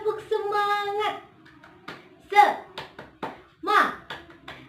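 A teacher leads a rhythmic 'tepuk semangat' clap routine, sharp hand claps landing in short patterned bursts between chanted spoken and sung phrases, close and clear in a quiet room.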